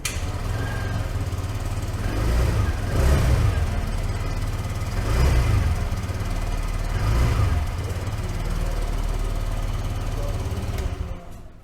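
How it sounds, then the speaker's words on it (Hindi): A TVS Jupiter 125 scooter with an air-cooled engine idles steadily for about eleven seconds, a low continuous hum with slight periodic swells, close to the microphone, then cuts off abruptly at the end. "तो जुपिटर 125 में आपको कुछ इस तरह का साउंड मिल जाता है।"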